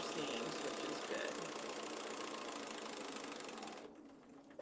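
Sewing machine running a straight-stitch lapped seam, a steady continuous mechanical whir close up that drops away near the end as stitching stops.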